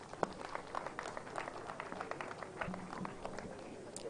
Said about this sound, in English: Another round of applause for Honorable Dr. Fred Akpebi